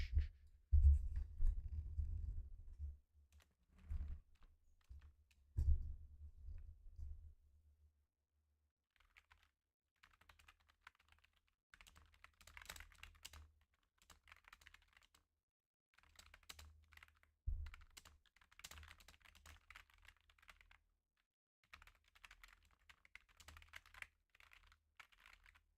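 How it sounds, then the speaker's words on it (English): Light typing on a computer keyboard, quiet irregular runs of soft key taps with pauses between bursts, close, after a few low thumps at the start and without any speech. "the idea there was just to give you a quick typing demonstration of what it sounds like"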